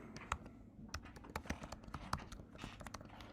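Quiet typing on a computer keyboard, a scattered run of light key taps with uneven rhythm, close but soft, with no talking over it.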